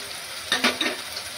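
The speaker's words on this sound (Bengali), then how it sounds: "মশলাটা ভালো করে কষিয়ে নিয়ে তারপরে মাংস দেব" Ginger, garlic, chilli pastes with ground coriander and cumin sizzling in oil for Bengali mutton curry, three quick bursts of frying and scraping stirs close up over a low steady hiss.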